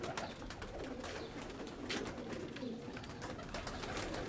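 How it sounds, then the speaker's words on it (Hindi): Pigeons kept by a fancier cooing nearby, soft repeated throaty coos rising and falling against a steady low background, with no talk in between. "बहुत कम लोगों के पास ये कबूतर हैं"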